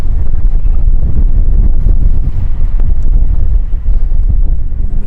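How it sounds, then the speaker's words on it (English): Strong wind blows outdoors near a boat, a loud, continuous rushing roar buffeting the microphone with low, gusty rumble throughout and no voices. "is beginning to get a little bit windy out there"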